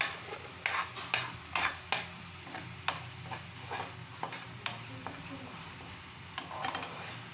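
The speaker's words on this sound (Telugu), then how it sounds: "ఇలా బాగా వేపుకుందాం" Chicken pieces fry in oil with lemon juice, a soft sizzle running underneath while a spoon scrapes and stirs the pan in repeated clicks and taps at an even, unhurried pace, close to the listener and with no talking.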